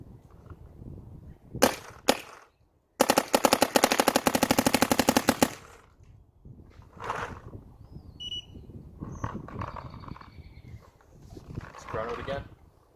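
Dye M3s paintball marker firing: two single pops, then a rapid, loud stream of shots lasting a couple of seconds, followed by softer clatter and handling sounds.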